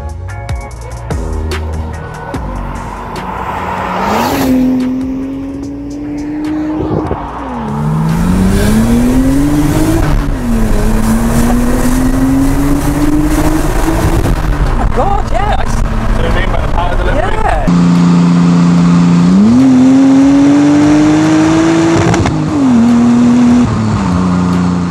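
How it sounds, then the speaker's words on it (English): A Nissan Skyline R34 GT-R replica's engine revving hard at full throttle, rising in pitch through several gear changes, loud and close with people talking over it. "that was the first full throttle acceleration"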